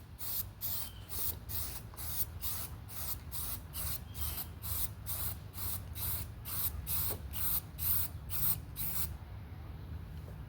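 Spray paint hisses onto car parts of a 1990 Eagle Premier in a quick series of short, evenly spaced bursts over a low background hum, ending with a brief pause.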